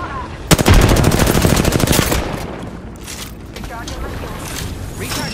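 Rapid automatic gunfire from a ranked Apex Legends Arenas match rattles out in a loud, fast burst lasting about a second and a half, then fades into quieter game noise and distant shots.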